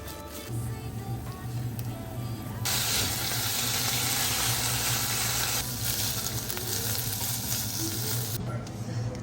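Marinated pork pieces frying with garlic in hot oil give a loud, steady sizzle that swells into a harsher crackle midway, with a low hum running underneath throughout.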